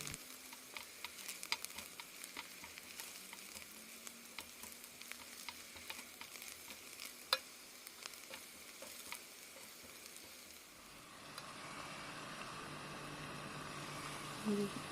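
Sliced bitter gourd fries in a pan with a faint, crackling sizzle and scattered small pops and ticks, steady throughout before the sound thickens into a denser hiss near the end.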